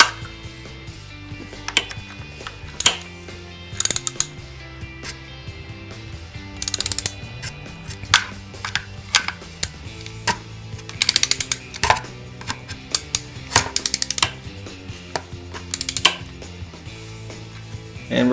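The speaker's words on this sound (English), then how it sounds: "we're using the 10 millimeter and we are tightening up the fender" A 10 mm ratchet tightening the fender bolts on an SSR 125 manual pit bike, clicking in rapid repeated runs close up, with sharper metallic knocks and pauses in between.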